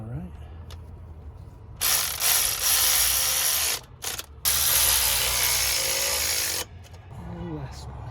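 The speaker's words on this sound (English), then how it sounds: "let me grab my ratchet" A hand ratchet turns bolts on a tow lot auction car under repair, in two long, continuous bursts of rapid clicking separated by a short pause, close and loud against a quiet garage.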